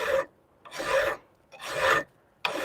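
Long blade, about 14 inches, sharpened by hand with a file or stone: three loud rasping strokes with short pauses between, then the start of a fourth, close and alone.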